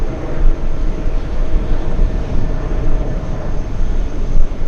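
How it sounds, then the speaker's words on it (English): A Delta Airbus A330-300 airliner taking off for Rome, a loud steady jet engine roar with deep rumble, close and continuous. "this is the A330 300 flying to Rome, Delta's 182"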